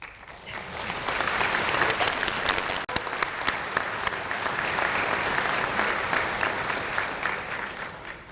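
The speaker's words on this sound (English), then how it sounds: "going to be a day of clapping" Sustained applause from a large audience at a professional welcome ceremony for an incoming veterinary class, dense steady clapping lasting throughout with one brief dip partway.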